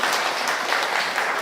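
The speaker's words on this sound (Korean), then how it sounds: "다시 한번 박수 좀 해주세요" An audience at a health forum lecture on knee surgery applauds, a loud, dense burst of clapping that holds steady throughout with no voices over it.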